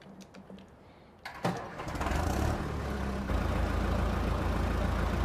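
A tractor engine in Farming Simulator 15 cranks and catches, then settles into a steady, loud, rumbling idle that continues to the end.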